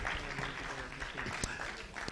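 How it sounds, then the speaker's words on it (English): An audience at a national quiz finale applauds the six competing teams, a continuous wash of many hands clapping, fairly faint and distant, with a few sharper individual claps standing out. "Let's clap for all the 6 teams."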